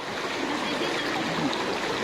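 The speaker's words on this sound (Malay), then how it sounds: "Kita sekarang di Sungai Pangsun." Steady broadband rush of a flowing river stream at Sungai Pangsun in Hulu Langat, a continuous close, even wash of water with no clear voices.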